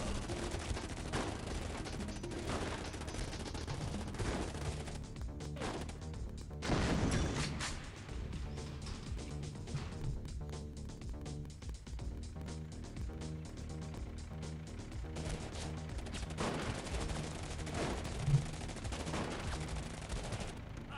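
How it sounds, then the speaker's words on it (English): Sustained video game gunfire crackles in dense, rapid bursts, automatic fire and heavier blasts layered together, with a louder surge partway through, continuous for about twenty seconds at moderate volume. "Guns blazing."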